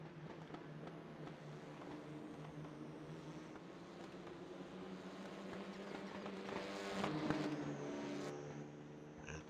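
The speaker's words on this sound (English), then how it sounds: "As we start seeing some cars heading into the pits." Engine drone of Renault Clio Cup race cars in the iRacing game at the Hungaroring, a steady layered hum of several cars with a slight swell near the end, no talking.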